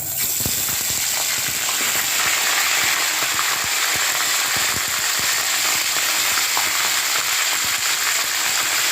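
About 1.25 kg of lemon-marinated chicken frying in hot oil in a Bengali home kitchen gives a loud, continuous close-up sizzle with occasional sharp crackles and pops.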